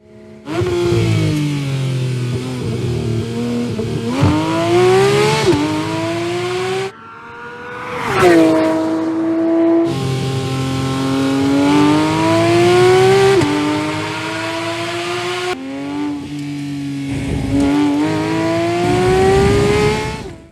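A 2023 Porsche 911 GT3 RS engine revving hard toward 9,000 RPM, pitch climbing steeply through the revs in repeated runs, with brief drops between gear changes; loud and close.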